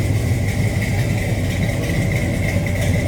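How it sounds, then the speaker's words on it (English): A 1969 Chevrolet Chevelle SS tribute with a 396 V8 and 700R4 automatic idles in a steady, deep rumble heard from behind the car, constant and fairly loud with no revving. "Nice little rumble out of that 396."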